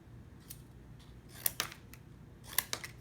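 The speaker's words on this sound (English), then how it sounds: "We'll cut a little bit bigger pieces, I think." Scissors snip through craft paper for a mix box, a few sharp crisp cuts in two small clusters, close and fairly quiet, with soft handling rustle between them and no talking.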